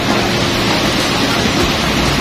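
Heavy torrent of water pouring down the first tier of Tat Kuang Si Falls in Laos, swollen by recent rain, a dense, steady roar filling the whole clip without pause.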